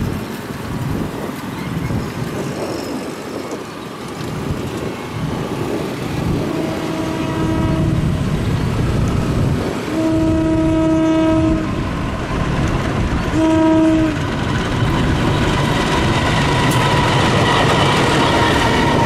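A locomotive with rare livery and stickers rolls past, its horn blasting in three steady tonal bursts over continuous rumble and wheel clatter, close and loud throughout.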